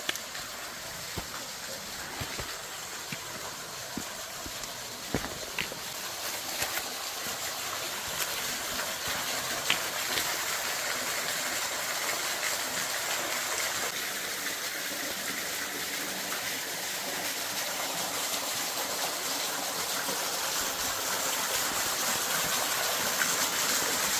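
A stream and waterfall at Saalman Hollow Nature Preserve give a continuous rushing wash of water, moderately loud and steady, growing slightly stronger toward the end, with a few scattered knocks and clicks.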